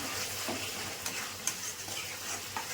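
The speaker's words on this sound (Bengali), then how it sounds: "ভালো করে নেড়ে দেবো।" Tilapia fish curry with fried eggplant being stirred in a pan after salt goes in, a soft steady sizzle under scraping stirs and a few light clinks of the utensil.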